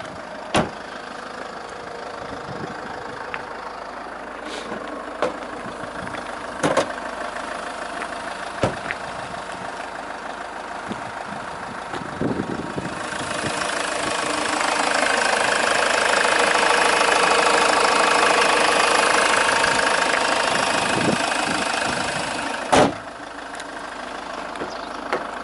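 A Jaguar XF idling with its bonnet open, a steady mid-pitched engine hum with occasional sharp clicks and knocks, swelling louder for several seconds midway before settling back to a calm idle.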